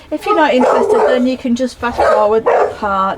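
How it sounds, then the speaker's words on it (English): Dogs barking and yipping in a home with building work going on, a few sharp barks mixed with whimpers, loud and close, overlapping steady talking throughout. "I'm sorry about the dogs barking in the background."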